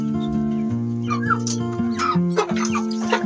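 Several backyard chickens cluck and chatter close by in overlapping, uneven calls, with a constant low hum underneath.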